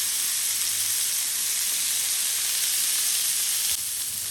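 Seafood fish skewers searing in a hot pan give a steady, even sizzle with a bright hiss, close and constant for several seconds, with no voices.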